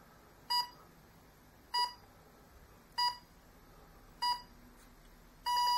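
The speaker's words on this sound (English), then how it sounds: "Oh, can you hear that beep?" Five evenly spaced programming-mode beeps from a Hobbyking electronic speed controller in an ASW-28 model glider, each short and tonal, repeating about every second and a quarter over a faint steady hiss.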